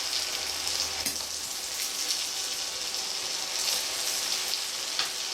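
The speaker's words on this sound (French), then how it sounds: "Et là, vous laissez mijoter un peu, mais pas trop parce qu'il ne faut pas que votre truite soit trop cuite." Trout cooks in a pan with almonds, giving a steady close sizzle that holds evenly throughout with a few faint clinks, and no one speaks.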